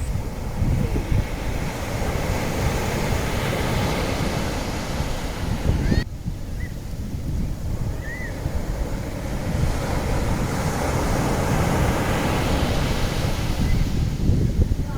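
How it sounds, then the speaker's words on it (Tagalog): Surf breaking along an eroding shoreline with steady wind buffeting the microphone, a continuous broad wash that swells and recedes without a break, heard alone at moderate level. "Habang ang alon ay bumabangga sa nanganganib na baybayin"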